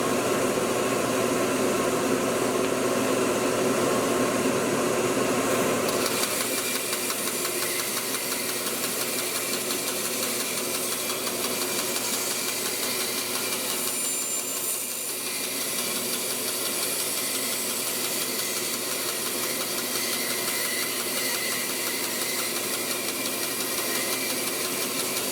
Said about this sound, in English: You don't push on a bandsaw blade, you just fade it as fast as the blade will cut.